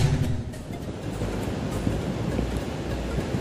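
Ocean surf on Jetis Beach in Cilacap, Central Java, a continuous low rumbling wash of waves mixed with strong wind buffeting the microphone, loud and steady throughout with no talk.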